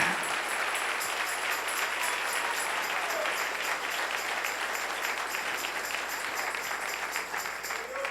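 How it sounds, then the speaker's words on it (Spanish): A church congregation applauds during a Sunday morning service, a steady, dense round of many hands clapping at moderate distance, continuous throughout with faint crowd murmur beneath. "Dele un aplauso al Señor en esta preciosa y hermosa mañana."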